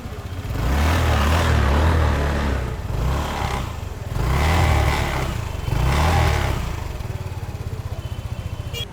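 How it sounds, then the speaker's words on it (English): A VLF Mobster 135 scooter engine revs in several rising bursts, its exhaust note throbbing loudly and close, then settles to a steady idle putter. "here's an exhaust note for you."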